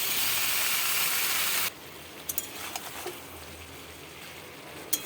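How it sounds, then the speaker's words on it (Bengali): Mixed vegetables steaming in a covered pan over low heat give a steady, soft hiss that drops suddenly partway through to a quieter simmer with faint scattered ticks and pops, no one speaking. "এবার কম আঁচ করে ঢাকা দিয়ে সবজিটা সেদ্ধ হতে দেব।"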